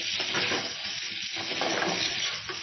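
Vegetables fry in a pan over low heat, giving a steady, close hiss of sizzling oil that holds evenly throughout with faint stirring beneath.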